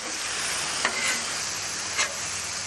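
Beef searing on a hot griddle for a keto stir fry, giving a steady bright sizzle with two brief louder crackles.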